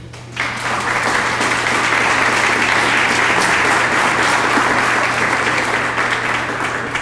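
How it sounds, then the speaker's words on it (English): Sustained applause from a large audience honoring awardees at a Hispanic Heritage Month award ceremony, a dense, steady wash of clapping that swells in quickly and holds loud and even throughout, with a constant low hum underneath. "So another round of applause for our awardees."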